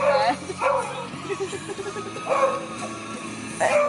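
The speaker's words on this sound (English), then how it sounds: "Angry dog." An angry dog barks in short sharp bursts, several loud yaps spread across a few seconds, heard from near a car with people talking in between.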